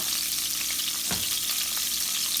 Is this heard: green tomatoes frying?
yes